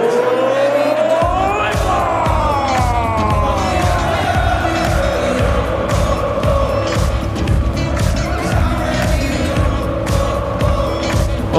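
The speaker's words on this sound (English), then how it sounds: "A packed-out crowd and a little bit of trouble on his walk-on" A packed darts crowd cheers and roars during a player's walk-on at a PDC Premier League Darts match. The loud, sustained crowd noise runs without a break and blends with booming walk-on music.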